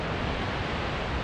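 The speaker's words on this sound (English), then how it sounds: "It's a really nice, beautiful, tall waterfall." Wallace Falls, a tall waterfall in Washington seen close up on a rainy day, gives off a dense, steady roar of crashing water, broad and unbroken for the whole moment.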